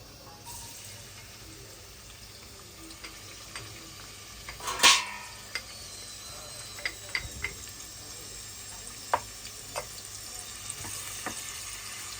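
Onions frying in a pan for biryani give a quiet, steady sizzle with occasional small clicks and one louder metallic clang from the cookware.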